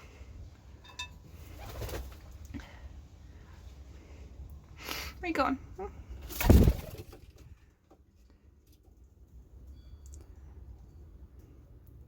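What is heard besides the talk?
pigeons cooing in a loft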